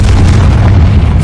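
A Confringo spell explodes inside a tomb in Hogwarts Legacy, a brief, loud, dense low boom of fiery blast sustained throughout.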